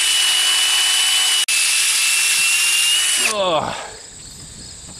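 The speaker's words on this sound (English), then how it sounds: "Go ahead and drill a little hole through there." A high-pitched power drill whines steadily up close while drilling a small hole in wood, briefly stops, then runs again and winds down with a falling pitch.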